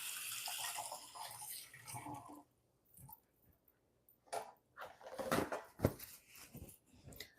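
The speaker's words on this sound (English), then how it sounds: "Let me give my hands a quick rinse." Hands are rinsed under a running kitchen tap, with a hissing splash of water at first, then quieter intermittent splashes and handling noises, faint and close.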